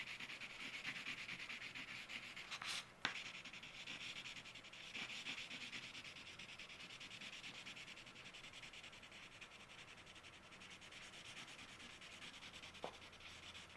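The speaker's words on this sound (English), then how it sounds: "Take regular green here and color across again. I am not using a lot of pressure on the crayon" A crayon rubs lightly back and forth across paper, a soft, continuous scratchy sound heard close up, with a couple of faint clicks and taps.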